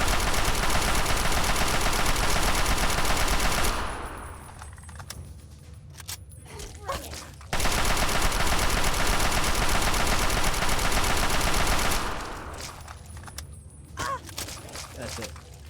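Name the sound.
gunfire in video game Fallout 3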